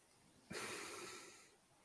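A single abrupt, breathy burst like a sneeze or cough bursts out of near silence, then trails off into a hissy exhale over about a second.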